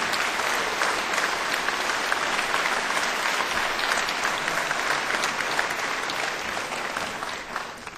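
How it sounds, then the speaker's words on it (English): Sustained, dense applause fills a legislative chamber at a joint session as the assembly welcomes newly elected members, steady and loud throughout with no voices standing out. "Let's give our new members a great round of applause"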